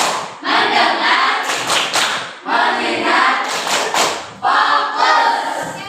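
A school class performs the tepuk fokus clapping routine, bursts of rhythmic unison claps and thumps in short patterned phrases separated by brief pauses, close and loud, with children chanting words between the clap sets.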